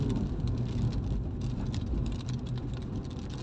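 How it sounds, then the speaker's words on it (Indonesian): Dense, steady patter of rain, heard as continuous broadband hiss with a low rumble underneath, like rain drumming on a vehicle. "Ternyata hujan"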